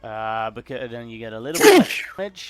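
A person speaks briefly, then a single loud sneeze bursts out near the end, followed by a short trailing voice.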